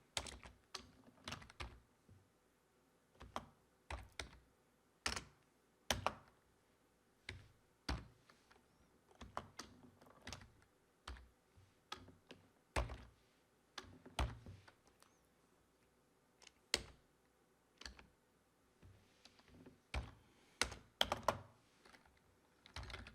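Rapid, uneven keystrokes on a computer keyboard while entering PowerShell commands, close and crisp, in bursts with short pauses and no talking.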